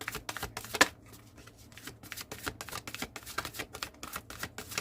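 A deck of tarot cards being shuffled by hand, a rapid run of close, crisp riffling flicks in a steady rhythm, continuous throughout with no voices.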